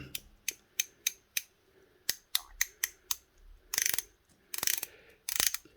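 A series of sharp, crisp, slightly tinny clicks from the 60-click ratcheting bezel of a Festina F20478/3 automatic watch, spaced irregularly, some single and a few longer bursts of rapid clicking, close and clear.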